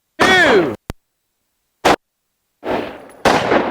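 Carbine rifle shots are fired at a target during a training class. Two sharp, loud, isolated cracks are separated by silence, followed by longer bursts of noise, and a brief voice sounds at the start.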